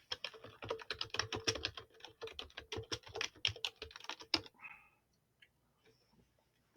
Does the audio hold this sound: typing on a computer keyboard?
yes